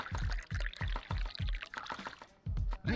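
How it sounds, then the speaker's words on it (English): A drink poured at a bar in the video game Dave the Diver, heard as quick rhythmic glugging bursts of liquid in close succession, a pause, then more glugs near the end. "Pour this guy a drink."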